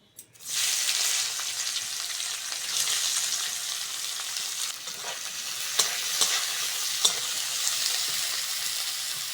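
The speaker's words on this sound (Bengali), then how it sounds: "এইবার দেব কুচনো পেঁয়াজ।" Chopped onion hits hot oil in a pan after lightly fried silver carp for a Bengali fish curry, bursting into a loud continuous sizzle with a few sharp scraping stirs, no voices.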